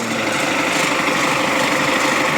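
Leaf blower running steadily at close range, a continuous high-pitched whine and rushing air with no breaks.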